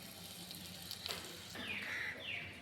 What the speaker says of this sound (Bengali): এইভাবে আমি বাকি বড়াগুলোকেও ভেজে নিব।